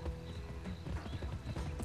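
Horse hooves gallop in a rapid, steady clip-clop during a horse race in the Western video game Gun, loud and close, with a brief whinny-like rise near the end and no talking.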